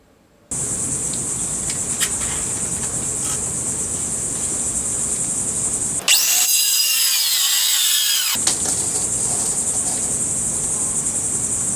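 A track saw, clamped to its guide rail, rips through a part in one loud burst of about two seconds. Steady insect-like chirping from crickets runs throughout the cut.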